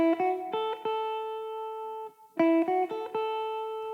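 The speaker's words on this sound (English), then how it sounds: "And then you can play that first lick." An electric guitar plays a gospel lick built around an A barre chord: plucked notes and quick double-stops ring out, a sustained note, a short pause, then another flurry of notes, clean and up close with no talking.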